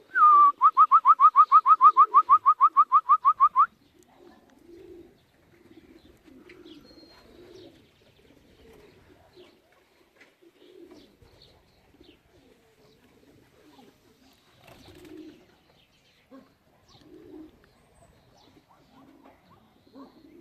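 Domestic pigeons coo softly and repeatedly near a pigeon loft during a race return, low rhythmic calls continuing throughout, preceded by a brief loud whistling burst at the start.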